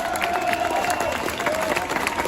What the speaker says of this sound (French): Je vous prie d'applaudir Stéphane Lara.